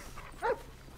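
A dog in a role-play video game gives a single short, faint bark over quiet background hum.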